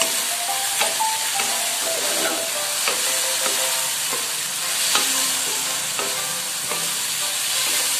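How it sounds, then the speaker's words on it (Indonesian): Sausages sizzle steadily in teriyaki sauce in a hot pan while a utensil scrapes and stirs, with occasional clinks against the pan. "Oke, kita aduk."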